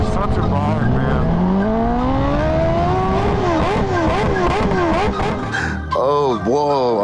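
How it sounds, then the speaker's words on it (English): Kawasaki Ninja H2 superbike ridden at night, its engine loud and close with rising revs that climb steadily, then rapid throttle blips and gear changes near the end. "We're piloting this beautiful H2 today."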